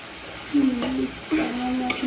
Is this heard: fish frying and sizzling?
yes